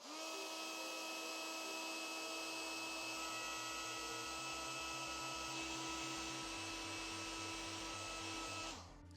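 Heat gun warming a metal gearbox rail and nut clamped in a vise to loosen glue, a steady loud fan whir and blow with a constant tone that runs for several seconds and then cuts off, no talk.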